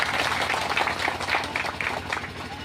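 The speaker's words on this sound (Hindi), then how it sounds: "आप सभी तालियां बजा दीजिएगा।" An audience at a village assembly gathering claps together, a dense rustling patter of hands for a few seconds that tapers off slightly.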